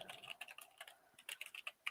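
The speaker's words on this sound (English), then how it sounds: "I keep typing flat Earth." Fingers type on a computer keyboard in quick, uneven bursts of soft clicking keystrokes, close but faint, with short pauses between the runs.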